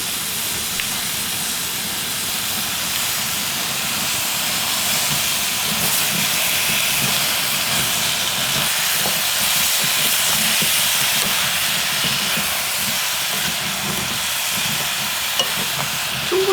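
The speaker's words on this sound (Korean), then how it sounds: "고추장을 볶아." Gochujang stir-frying in perilla oil in a pan, giving a steady, continuous sizzle and hiss that runs evenly throughout without any talking.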